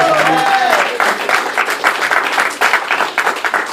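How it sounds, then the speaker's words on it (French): Congregation applauding at a French-language church service, a crowd clapping steadily throughout, with a voice briefly audible at the start. "J'aimerais ça qu'on donne une bonne main d'applaudissement."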